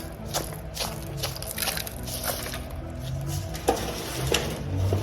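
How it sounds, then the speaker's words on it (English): Potting soil scooped out of a bag with avocado cups makes soft, repeated crunchy scrapes and squishes with light patters, close by and fairly quiet, with no talk. "I use my avocado cups to dig the soil out the bag"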